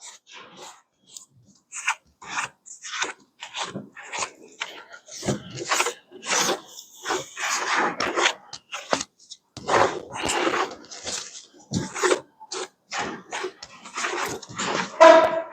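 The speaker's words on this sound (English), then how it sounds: "I take a good cotton cloth and wipe them off." Cotton cloth wiping the cylinder heads of a big block Chevy 454 engine, a quick series of short, close rasping strokes in an uneven rhythm, with no talking.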